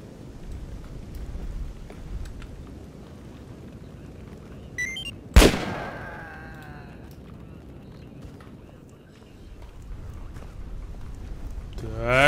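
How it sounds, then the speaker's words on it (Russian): A single loud gunshot cracks in the STALKER Dead Air video game and rolls away in a long echo over steady outdoor ambience. "мои профилактические выстрелы"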